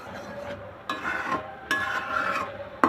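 Khirsa, Bogura-style thickened milk, being stirred in a pan at home: a steady scraping, rasping stir with several louder strokes, close and fairly quiet with no talk.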